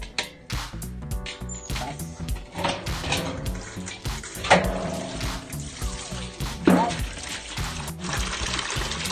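Water is poured and splashes in repeated bursts, clattering against containers over steady background noise, near and irregular.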